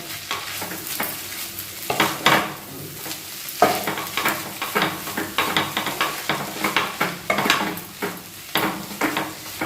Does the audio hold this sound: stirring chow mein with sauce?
yes